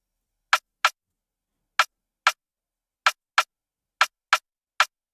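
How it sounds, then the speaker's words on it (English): Snare drum sample in a beat, several short crisp hits arriving in pairs and singles with silence between, sharp and close with no other sounds. "And from the rim shot, I have another snare also, right?"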